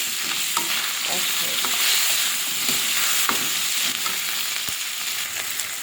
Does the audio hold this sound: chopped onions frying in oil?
yes